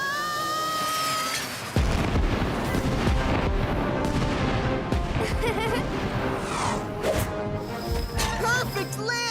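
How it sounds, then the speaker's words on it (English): Cartoon fireworks go off after a whistling tone, bursting into a rapid, close barrage of booms, bangs and crackling pops that fill most of the clip. "But next time, maybe don't add the fireworks, Danny."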